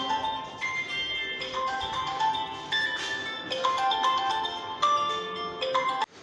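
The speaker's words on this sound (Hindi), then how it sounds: "बीच में फ़ोन आ गया था" A phone rings with an incoming call, a bright electronic melody of repeating tonal phrases over about six seconds, fairly loud and close, cutting off abruptly near the end with no talking.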